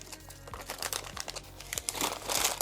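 Paper bags crinkle and rustle close up in irregular bursts, growing busier and louder toward the end.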